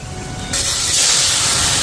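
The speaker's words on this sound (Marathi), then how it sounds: "आता बाजारचा मसाला आणि हळद तापायला टाकली" Market masala and turmeric hitting hot oil with garlic for a black-masala pea curry, the sizzle bursting up suddenly into a loud, steady hiss that holds to the end, with no talking.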